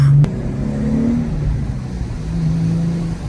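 Manual sports car driving on a wet road, its engine a steady close mid-pitched drone with slight rises in revs, heard from inside the cabin with no talking.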